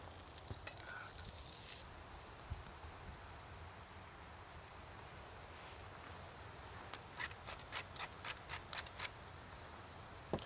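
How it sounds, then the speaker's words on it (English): Bread toasting over hot coals on an IKEA charcoal grill, giving a steady low sizzle and crackle throughout, with faint clicks and light handling taps near the end. "then we're going to grill our toast and melt the cheese"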